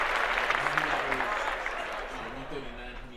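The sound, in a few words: applause sound effect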